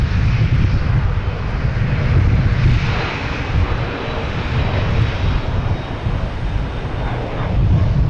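An Embraer airliner at Boston Logan Airport, a broad, steady jet roar heard from a distance outdoors, swelling slightly and holding without a break, no talking.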